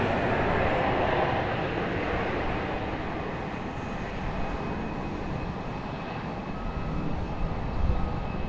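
A JetBlue airliner moves along at Raleigh Durham International Airport, giving a steady broad engine roar at moderate distance that holds evenly throughout.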